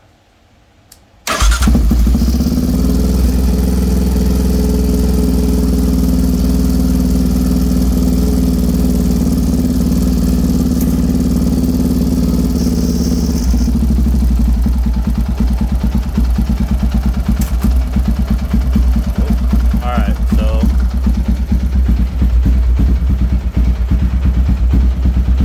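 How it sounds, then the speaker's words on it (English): A motorcycle fitted with a Cuervo +3mm throttle body starts abruptly and settles into a loud, steady idle, then the engine note drops and roughens to a barely running idle as the idle stop screw is backed out. "We are going to adjust this screw out till the bike almost dies."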